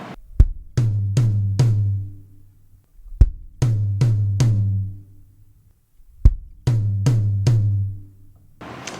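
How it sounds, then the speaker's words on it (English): Gospel drum fill played three times: a low kick pickup note followed by three quick tom hits, each phrase separated by a short pause, loud and close with ringing decay and no talk. "the first part of this drum fill is 3 hits on the toms, but you have to do a pickup note from the kick."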